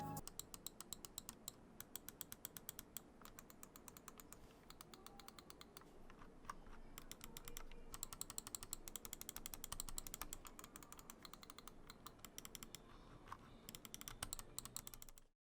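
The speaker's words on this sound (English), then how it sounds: "let's listen to those sweet clicks on the Ducky Feather" Rapid bursts of crisp clicking from the buttons of a Ducky Feather computer mouse, pressed many times in quick uneven runs for about fifteen seconds, close and clear with no talking.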